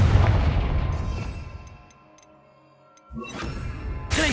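The Confringo blasting spell detonates in Hogwarts Legacy, a loud explosive blast that fades into quiet ticking, then another burst and a sharp crack at the end.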